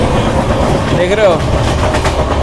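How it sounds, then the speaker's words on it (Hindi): An Indian Railways 3AC coach rolls along the rails with a steady, loud rumble and rattle filling the space, and a voice briefly rises over the noise. "ये है ट्रेन जर्नी"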